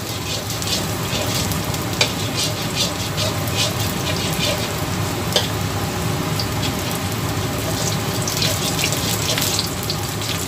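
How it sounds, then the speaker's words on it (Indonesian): Celery stems and fried shallots sizzle steadily in hot oil in a pan, a dense, even crackle with occasional clinks of a utensil. "Terus kita goreng sampai layu ya guys."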